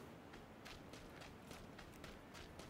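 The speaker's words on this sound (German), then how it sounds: "Ich höre Schritte." Footsteps in the battle-royale shooter PlayerUnknown's Battlegrounds come as a faint, steady run of soft thuds against low background noise, like someone walking nearby but out of sight.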